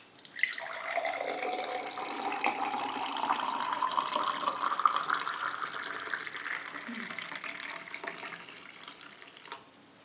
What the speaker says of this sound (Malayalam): അപ്പൊ നമുക്കത് ഒരു ഗ്ലാസ്സിലേക്ക് അങ്ങ് ഒഴിക്കാം.